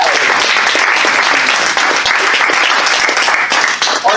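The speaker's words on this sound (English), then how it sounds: "Please give a round of applause for Godzilla." A comedy-show audience at an amateur-hour performance bursts into loud, sustained applause, dense clapping filling the room evenly from start to finish, close and full with no talk over it.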